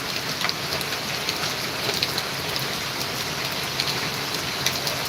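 Heavy rain pours down in a steady, dense hiss with scattered louder drops, unbroken throughout.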